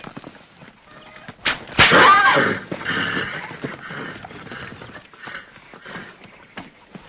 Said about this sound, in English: You know that's no way to break a horse.